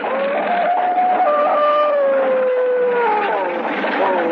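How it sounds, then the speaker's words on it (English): Several dogs howl together in long, overlapping wavering tones, loud and sustained throughout. "the devil dogs ran, snarling and howling"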